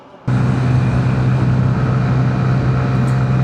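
A Honda CB 125 Hornet motorcycle engine drones loudly and steadily while climbing uphill, starting abruptly and holding a constant low hum mixed with wind rush.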